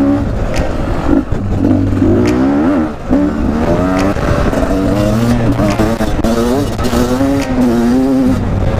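Beta 250 enduro two-stroke motorcycle revving, its wavering engine pitch rising and falling continuously and loudly up close, with someone talking over it.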